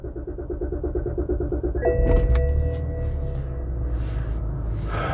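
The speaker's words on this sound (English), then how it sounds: "Let me try to start the car." A 2007 BMW X5 E70 with a gear selector interlock fault is started up close: a steady chime-like pulsing gives way to a starter crank, then the engine settles into a loud, even idle rumble with a brief high whine.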